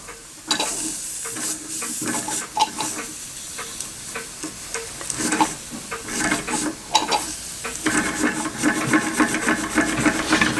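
A Stirlingkit Retrol SE-02 model steam engine runs under steam pressure, giving a close, continuous hiss and sizzle broken by quick irregular ticks and clatter, steady throughout with no talking.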